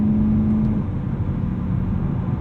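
Tuned 2010 BMW E92 M3 cruising at about 70 mph in 7th gear near 2,600 rpm, a steady low engine drone and road rumble heard from inside the cabin, loud and continuous with no talking.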